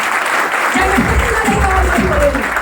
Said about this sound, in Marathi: त्या व्यक्तीसाठी एकदा जोरदार टाळ्या झाल्या पाहिजे